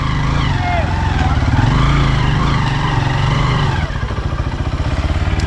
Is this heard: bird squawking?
no